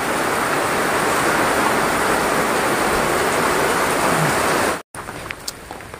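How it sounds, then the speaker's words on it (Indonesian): Heavy wind-driven rain pours at Borobudur temple in Central Java, a dense, loud, unbroken roar of downpour that cuts off abruptly near the end, leaving faint quiet ambience with a few small clicks. "ini kita tunggu dulu karena hujannya lebat banget"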